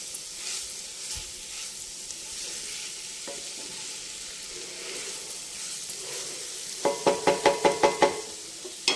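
Salt and chili powder fry in a pan during cooking of alasandala vepudu, a black-eyed pea stir-fry, giving a soft steady sizzle, then a quick run of about eight loud metallic knocks as a spoon scrapes and taps the pan.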